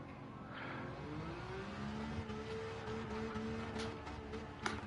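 A race car drifting in Gran Turismo 7 at Circuit de la Sarthe in wet conditions, its engine droning and rising in a steady whine with faint tyre noise, fairly quiet and unbroken by talk.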